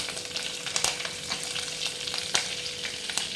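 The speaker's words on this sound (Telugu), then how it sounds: "ఆవాలు, జీలకర్ర వేసాను. తర్వాత కరివేపాకు," Mustard seeds, cumin and curry leaves sizzle in hot oil, a steady close crackle with sharp pops and spatters scattered throughout, with no voices.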